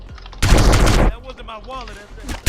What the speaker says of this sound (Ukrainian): просто вистрілив нахуй по воздуху